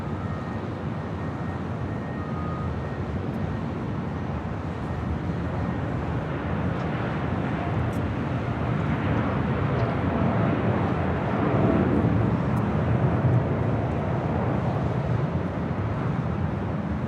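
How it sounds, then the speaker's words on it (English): United Airlines Boeing 787-10 Dreamliner departing Los Angeles International Airport, a steady broadband jet roar that swells slightly toward the middle and holds without pause, with no talk. "This is United Airlines Flight 39 departing to Tokyo Haneda on a 787-10 Dreamliner."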